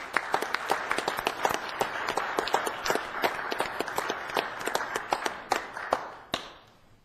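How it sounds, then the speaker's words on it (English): An audience at a Victorville city council meeting applauds, with scattered, moderately distant claps forming a steady patter that fades out at the end. "Give yourself a round of applause for your efforts"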